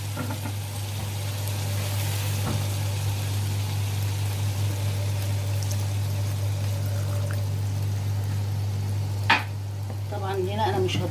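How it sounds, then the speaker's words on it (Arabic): Water pours into a hot, sizzling pot of meat and chickpeas, a steady hiss over a constant low hum, with a brief clatter near the end. "وهنبدا نضيف الميه"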